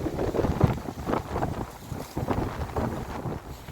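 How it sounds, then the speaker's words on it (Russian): Strong, gusty November wind roars and buffets the microphone in steady surges, loud and close, with no talking. "Вот такой ветер."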